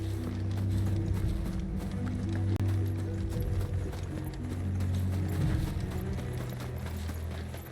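Several horses gallop in the Final Fantasy 16 video game, their hooves drumming in a fast, continuous clip-clop close by over a low, rumbling musical score.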